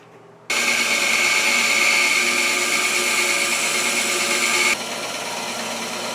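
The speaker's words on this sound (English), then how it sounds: "I'm going to use this bandsaw as if it were a scroll saw to help cut out these initial blanks" A bandsaw cuts hard rosewood knife handle blanks: the motor switches on suddenly into a loud, steady whine with a high tonal ring, and the pitch and level drop slightly near the end as the cut changes, with no talking.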